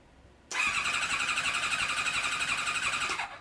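Kawasaki ZX7R four-cylinder sport bike engine spun over on the starter with ignition coils unplugged during a compression check after a rebuild, a steady whirring crank that begins abruptly and runs for about three seconds before stopping.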